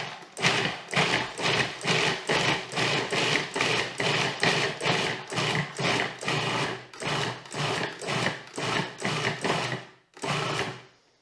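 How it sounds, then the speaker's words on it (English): Bananas pulsed in a food processor for raw vegan banana bread: a long run of rapid, evenly spaced loud bursts, close up, ending after a short gap with one final pulse. "this is what it looks like when it's done being pulsed up in the food processor"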